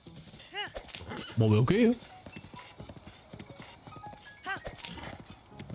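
Horse hooves clip-clopping in the video game Zelda Breath of the Wild: a rhythmic trot of close hoofbeats, joined by a brief whinny and snorts, while someone talks over it.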